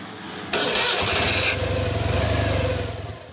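A Citroën 2CV's small engine cranks with a whirring starter, then catches and settles into a steady, chugging idle close by.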